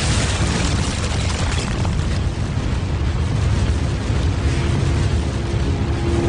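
A cartoon explosion blasts through a wall in the animated Scooby-Doo film Where's My Mummy, filling the whole stretch with a loud, sustained roaring rumble of debris that never drops away.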